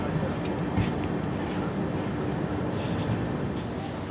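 A passenger train pulling out of Kawnpui station on the Sairang to Kolkata route, heard from inside as a dense, continuous rumble with faint rhythmic clatter, steady and close throughout.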